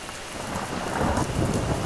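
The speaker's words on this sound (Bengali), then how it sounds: "দেখো মা, বাইরে বৃষ্টি হচ্ছে" Heavy rain falls outside in a Bengali cartoon, a dense, steady downpour with low thunder rumbling beneath it and growing slightly louder toward the end.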